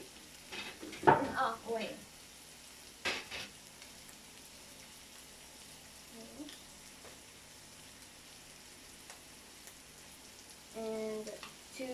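Butter for butter garlic shrimp goes into a pan with a brief burst of sizzling and scraping at the start, then fades to a faint, steady crackle; a voice speaks briefly and a short clatter comes near the end.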